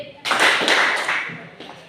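A group of students at an Islamic boarding school claps a short 'tepuk oke' rhythm pattern, several sharp bursts of hand claps in quick succession followed by a softer trailing clap, close and fairly loud.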